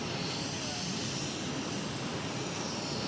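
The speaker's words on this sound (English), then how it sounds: "Runway 22 right, clear for takeoff." A jet airliner takes off from runway 22 right at Boston airport, heard as a dense, continuous engine roar that stays steady and loud throughout with no break.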